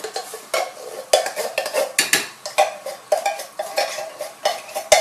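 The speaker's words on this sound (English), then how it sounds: "Now, I'm just going to stir that around." A spoon stirs Thai green curry paste into coconut milk in a pot, giving repeated scraping and clinking strokes against the metal with a faint bubbling underneath, close and steady.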